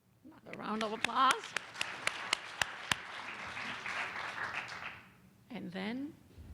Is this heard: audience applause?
yes